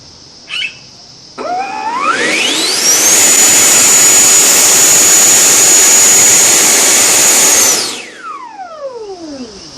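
A Freewing FA-18 90mm EDF ducted fan spools up from quiet to a loud, piercing whine, holds at full throttle for several seconds, then winds down with a falling pitch.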